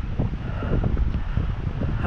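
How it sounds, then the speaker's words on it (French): Strong wind gusts across an abandoned V1 launch site at Morbecque, buffeting the microphone in low, uneven rumbles close up. "le vent vient de monter"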